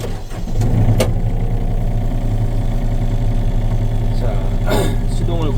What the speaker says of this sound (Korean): 자, 시동을 걸고